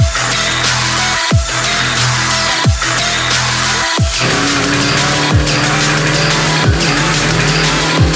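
Race cars accelerate hard at the start of a race, loud and close, engines shifting through gears with sharp repeated drops in pitch as each upshift lands, one continuous roar without voices.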